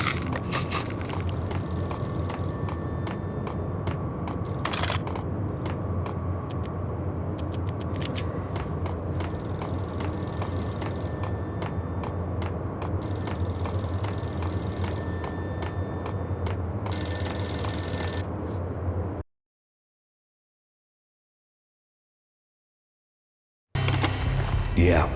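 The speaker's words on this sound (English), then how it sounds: "Payphone started to ring." A payphone rings steadily in the Max Payne video game, its bell tone repeating over an ambient background of game music and noise for about 19 seconds before abrupt silence, then sound resumes.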